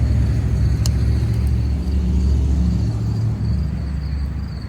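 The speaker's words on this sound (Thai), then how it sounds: "เสียงรถเสียงดังวุ่นวันวุ่นวานพี่น้อง" Steady road rumble from passing cars, a continuous low engine and traffic drone close by with no clear pauses.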